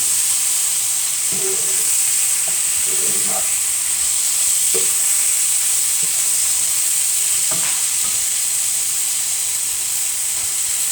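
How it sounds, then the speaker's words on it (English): Beef for a stew curry sizzles and hisses steadily in a pan, a loud continuous fry with occasional scrapes and stirring taps as the meat is spread out. "So give that a few more minutes to cook and spread it out a bit in the pan."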